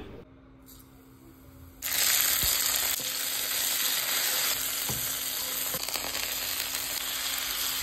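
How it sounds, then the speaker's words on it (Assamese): Panch phoron and tomatoes frying in oil for dal, a steady loud sizzle that jumps up sharply about two seconds in and holds close and continuous, with faint stirring clicks. "তেলত পাঁচফোৰণ দিছো আৰু বিলাহী ভাজি লৈছো"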